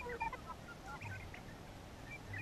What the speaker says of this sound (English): those are the chickens